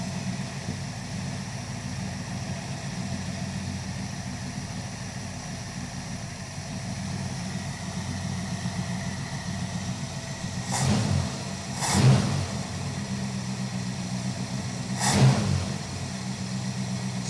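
Chrysler 5.2-liter V8 with a 2-barrel carburetor in a crew cab Charger, idling with a steady low rumble and a buzzing cooling fan, then three short blips of revving near the end.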